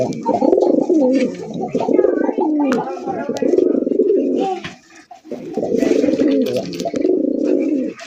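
Fancy racer pigeons coo in low, rolling, throaty phrases close by, with a brief pause midway before the cooing resumes. No one speaks.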